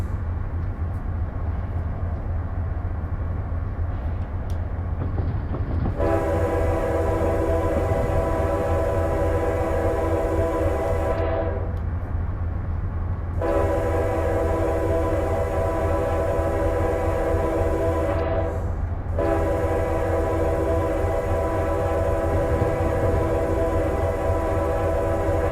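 In a train simulator game, a long mixed freight train led by a set of AC 9000 locomotives rumbles past steadily. A loud multi-tone horn sounds in several long blasts with short gaps between them.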